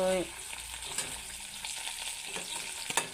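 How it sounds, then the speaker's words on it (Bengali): Dried fish and onion fry in hot oil, giving a steady, soft broadband sizzle with occasional light stirring scrapes, fairly quiet and close with no talking. "তো পেঁয়াজও ভাজা সেন্ট বাইরে গেছে, শুটকিও ভাজা হয়ে যায়।"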